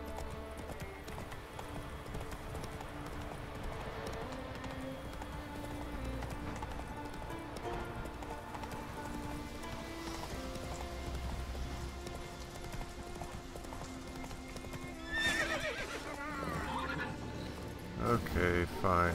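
Geralt's horse Roach in The Witcher 3 gallops with steady, rapid hoofbeats beneath game music and a man's speech, with a brief neigh-like flourish near the end.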